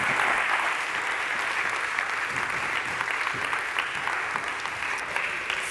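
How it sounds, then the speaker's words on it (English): Warm audience applause at a ChangeNOW 2022 ocean-themed conference session, a steady dense wash of clapping that holds evenly throughout with no voices over it. "Give him a good warm applause"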